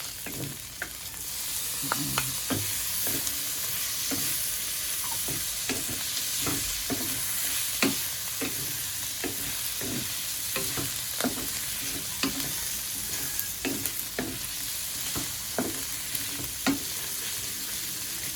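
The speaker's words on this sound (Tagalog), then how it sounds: "Ang nakita mong luto na yung sibuyas, ihulog naman natin ngayon yung kamatis." Tomatoes tossed into sautéed onions in a pan, frying with a steady close sizzle while a utensil scrapes and stirs in repeated sharp clicks throughout.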